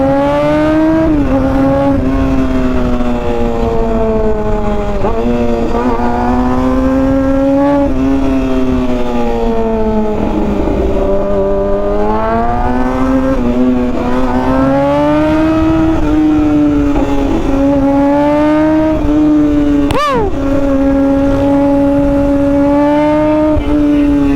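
Motorcycle fitted with a new SC Project MotoGP exhaust revving repeatedly, its loud, rasping engine note rising and falling in pitch through a series of throttle blips, close up with no talk.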